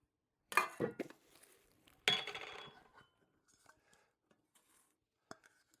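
Camping cookware, a pot and a very small frying pan, clanks loudly twice in sharp metallic knocks, then settles into faint scattered clinks and handling noises.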